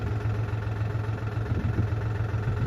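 A tractor stuck in mud with its rear sinking keeps its engine running: a steady, loud, low diesel rumble with constant vibration and no pause, and nobody talking.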